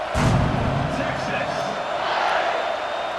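Stadium crowd in the College Football 26 video game keeps up a steady, dense roar of cheering and chatter around a kickoff, fairly loud and continuous throughout, with a commentator-style voice mixed in.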